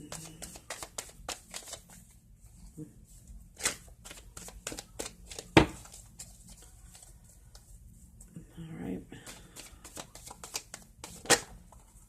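Tarot cards shuffled by hand in a series of quick, crisp riffles and taps, with brief pauses and a few louder snaps, close to the microphone and without speech.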